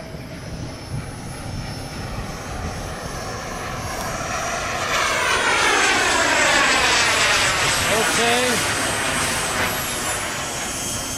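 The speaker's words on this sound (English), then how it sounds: "Low pass on the right." A radio-controlled model Boeing 737 MAX airliner makes a low pass. Its whining jet-like engine builds in loudness and pitch as it sweeps close by, then recedes, while people talk over it now and then.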